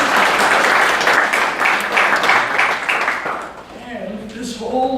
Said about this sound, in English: so give him a little applause.